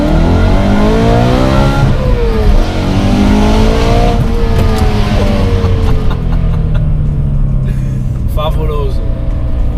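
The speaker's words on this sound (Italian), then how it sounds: "E a 8300 giri canta così il mio V8." A BMW M3 E92 V8 engine with a loud modified exhaust revs high to 8300 rpm, pitch climbing and falling in sweeping waves, close and roaring throughout.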